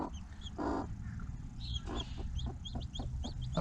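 A mother hen clucking with her chicks, steady low clucks broken by bursts of agitated calls and short high peeps, close by in a coop with a heat lamp.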